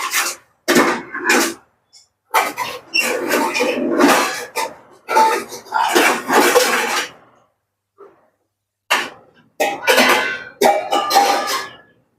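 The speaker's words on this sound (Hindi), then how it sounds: "बर्तन निकालने की आवाज है भाई।" Pots, pans and dishes being taken out and handled in a home kitchen, a series of scraping, rubbing clatters in short bursts with pauses between them, fairly close.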